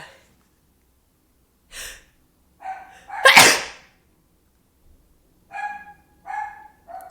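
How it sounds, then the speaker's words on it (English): Dog barking indoors, several short, separated woofs and one loud sneeze-like burst, each sound isolated by quiet gaps, no speech. "My dog is barking."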